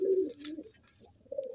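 A Madrasi pigeon coos in a loft, a few soft, throaty, rolling calls close by with a brief pause in the middle and no talk.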